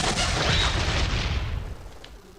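Turrets fire in the Contra III: The Alien Wars video game, a dense, loud barrage of booming gunfire and rumbling blasts that rolls on steadily for two seconds before tailing off.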